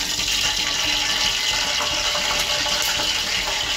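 Steady gush of water poured into a pot while cooking Coimbatore-style chicken dum biryani, a constant loud hiss and splash with no pauses.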